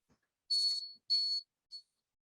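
A commercial/industrial cleaning machine sounds its alarm in three sharp high-pitched electronic beeps, two longer tones followed by a short one, loud and alone.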